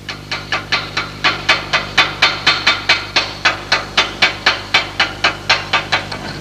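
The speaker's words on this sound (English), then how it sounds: "Normally, this slag has to be chipped away." Rapid, evenly spaced metallic taps of a hammer chipping slag off a fresh manual metal arc weld, about twenty sharp close strikes in steady rhythm over a faint low hum.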